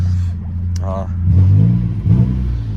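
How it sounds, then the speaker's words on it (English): A 1994 Saturn SL2 engine cranks and fires up, settling into a rough, raspy idle with blats from a holed muffler, close and moderately loud, with people talking over it. "Start it up. You can hear that hole in the muffler."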